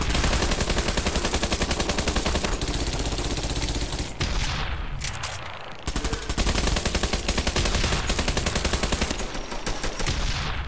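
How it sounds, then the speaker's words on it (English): Relentless rapid gunfire from the free-to-play online shooter Bullet Run, guns with a light BB-gun snap, loud and continuous with one short lull midway, no talking. "You wanna hear any like guns that sound like BB guns."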